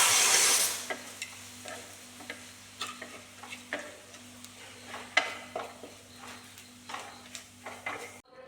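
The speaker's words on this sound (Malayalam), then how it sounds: "ഇതിൻ്റെ പച്ചച്ചവ മാറുമ്പോൾ നമുക്ക് ഇങ്ങനെ വഴറ്റിയെടുക്കാം" Chili powder being sautéed and stirred in a pan for a fish curry, with a soft sizzle under repeated light scraping and tapping strokes of a spoon, steady and close, with no voices.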